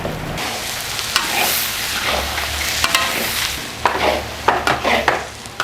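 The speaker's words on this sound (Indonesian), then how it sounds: "Oke, ini kita aduk terus." Seasoned minced chicken topping for cwie mie Malang, cooked in a large batch, is stirred in a frying pan. Scraping spatula strokes and clacks come over a continuous close sizzle, with sharper knocks toward the end and no speech.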